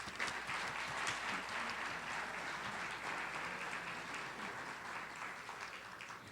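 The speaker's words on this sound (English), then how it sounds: "giving one more round of applause for these wonderful students" Sustained audience applause at an MLK event in 2013, honoring student award winners, a dense, steady clapping from a large crowd that stays loud throughout with no talk over it.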